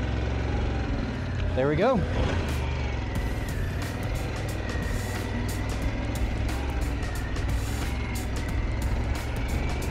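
Harley-Davidson Pan America 1250 Special motorcycle, 2022, engine starting with a brief rising starter whir followed by a steady close idle, with someone speaking briefly over it.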